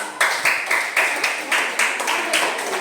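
A classroom of students claps for a group that has just presented, a loose rhythmic burst of hand claps repeating roughly twice a second, fairly close and clear with no talking over it.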